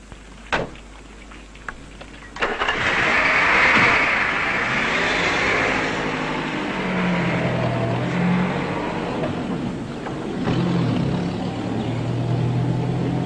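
A Kurdish jeep drives into the hills on a rough, winding mountain road in 1960s Kurdistan. A steady engine drone with shifting pitch runs throughout after a few early knocks, close and continuous, with no talk.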